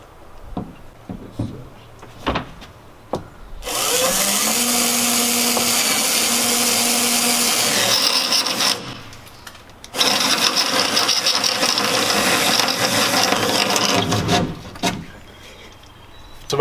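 Power drill boring a hole through a boat hull for a through-hull night vision camera mount, a loud sustained whine running for several seconds, pausing briefly, then resuming before stopping, with small knocks before it starts.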